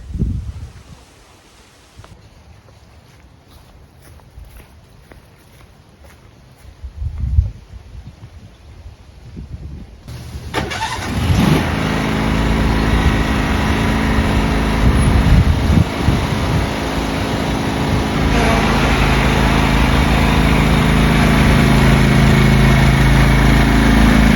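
A John Deere LT166 lawn tractor engine, bought cheap and in need of repair, is started after some quiet handling noises, catches around the halfway point and then runs loud and steady, close by, with no talking.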